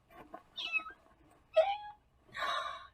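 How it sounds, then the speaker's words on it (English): Three separate meows follow each other, close and clear, with short pauses between them and the last one the longest. "It's a cat."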